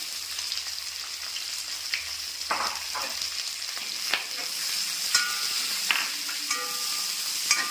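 Green chillies and sliced onions fry in a pan for an egg roast, a continuous sizzle broken by soft, irregular scraping and stirring clicks, close and alone without voices.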